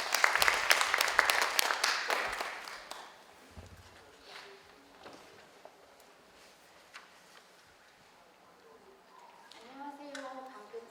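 An audience at a city culture project briefing applauds to welcome the next presenter, a burst of clapping that fades after a few seconds into quiet room noise with footsteps, before a voice starts speaking near the end.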